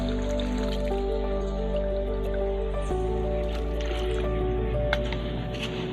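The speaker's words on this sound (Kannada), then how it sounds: "ಅದನ್ನು ಹಾಕಿದ ಮೇಲೆ ನಾವು ನೀರನ್ನು ಹಾಕೋಬೇಕಾಗತ್ತೆ" Water is poured onto black soldier fly larvae feed made from kitchen or restaurant waste, giving soft squishing and dripping sounds over a constant low mechanical hum.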